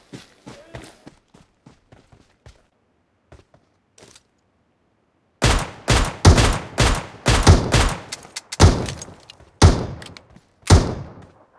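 Sniper rifle shots in the PUBG Metro Royale video game: faint distant reports first, then a loud series of about a dozen sharp, evenly spaced cracks after a pause.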